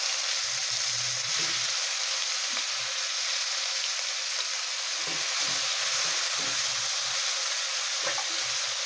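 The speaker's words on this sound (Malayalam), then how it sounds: "ഞാനിപ്പോൾ അതിനകത്തോട്ട് നമ്മൾ ചതച്ച് വെച്ച ഉള്ളി ഇട്ട് കൊടുക്കുകയാണ് അതിനകത്തോട്ട്" Crushed onion fries in oil left from frying fish, producing a continuous bright hiss and sizzle with faint low stirring knocks, heard close and alone.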